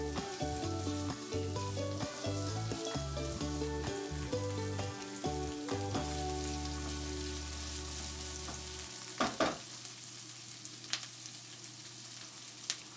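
Roughly chopped onion frying in a wok, a continuous close sizzle with a spatula stirring and knocking against the metal, a few sharper clacks near the end, no talking.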